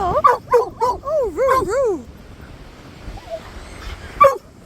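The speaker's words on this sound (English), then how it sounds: "that dog was loud. It wouldn't stop barking at me." Dog on a beach in Cape Town barking and yipping loudly and close in a rapid burst of several whining, rising yelps, then quieting before one more sharp bark near the end.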